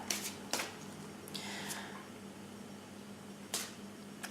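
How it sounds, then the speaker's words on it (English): A deck of tarot cards riffled by hand in a quiet room, with several crisp snapping bursts and a softer sliding riffle between them, close and fairly quiet, with no speech. "I feel like we're done shuffling."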